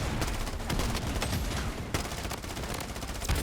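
In the Blood Strike video game, hip-fire gunshots crack in rapid, close bursts, a steady stream of shots broken by brief pauses.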